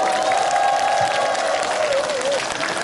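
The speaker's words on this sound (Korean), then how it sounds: "다시 한 번 더 큰 박수 부탁드립니다" A large outdoor audience applauding at an autumn night concert at a Buddhist temple, dense sustained clapping filling the space, loud and continuous, with a voice faintly audible underneath.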